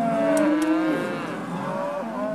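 Cattle at an Imperial Valley feedlot pen low nearby in a series of drawn-out moos that overlap and slide in pitch, loud and clear, with no talking.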